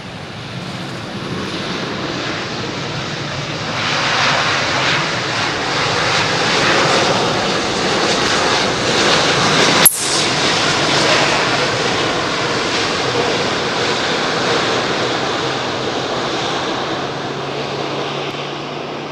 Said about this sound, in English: With the sound of the 777 starting up behind me as well.